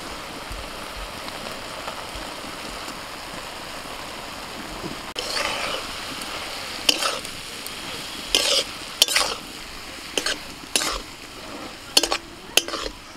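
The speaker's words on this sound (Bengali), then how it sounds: "এবার চিংড়ি মাছগুলো দিয়ে দিচ্ছি" Prawns fry with pea greens in a pan, first as a quiet, even sizzle, then with scraping stirs and clatter of the utensil that come in uneven bursts through the second half.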